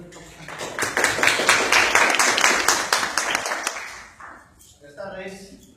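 An audience claps loudly and steadily in a lecture hall to welcome Dr. Delia Campuzano to a talk on customs management, the applause swelling for several seconds, then fading as she starts speaking.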